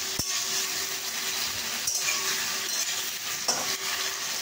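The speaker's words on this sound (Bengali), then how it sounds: "আদা আর টমেটোটা দিয়ে আমরা একটু ভেজে নিচ্ছি" Ginger and tomato fry in a pan for a Bengali cabbage ghonto, giving a steady, close sizzle with a few soft stirring scrapes and clinks throughout.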